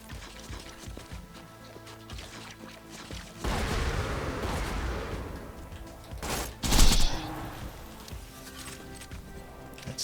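In the Borderlands video game, a Sandhawk gun fires rapidly as dense, loud bursts of gunfire. The shots merge into a sustained roar for a few seconds, then one sharp, heavy blast hits before things settle into quieter background noise.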